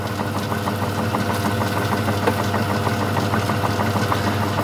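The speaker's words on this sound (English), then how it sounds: "Just make sure everything's covered, and I'll start lathe up." A lathe running a grindstone that spins slightly out of true, giving a steady close machine drone with a faint rhythmic pulsing all through.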